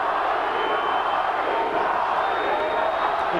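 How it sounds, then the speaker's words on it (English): Boxing crowd in an arena chanting a fighter's name, a loud, sustained roar of many voices that stays dense and continuous throughout. "The crowd chanting Paulie."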